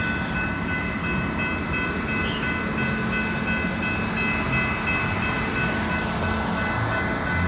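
A CPKC holiday freight train decorated with Christmas lights rolls past a road crossing steadily and loudly, a dense continuous rumble and rattle of cars with faint high squeals, no voices.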